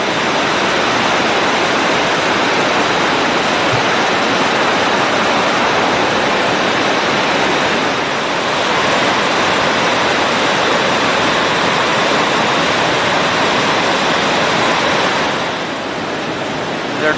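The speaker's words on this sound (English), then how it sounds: "There are quite a few waterfalls on the upper McDonald's Creek." McDonald Falls on upper McDonald Creek in Glacier National Park roars as a dense, constant broadband rush of falling water, loud and close, unbroken for the whole stretch with no voices.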